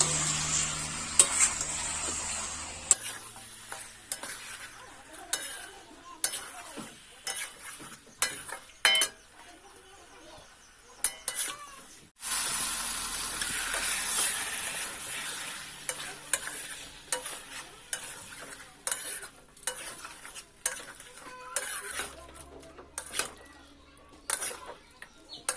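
Chicken being stirred with spices in a frying pan for a low-oil chicken kosha, repeated scraping and clattering strokes of a spatula over a soft sizzle, with brief pauses between bursts.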